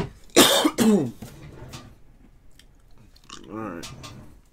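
A person coughs twice in quick, loud bursts near the start, followed by quieter throat sounds and a few murmured words in a room where baseball trading cards are being opened.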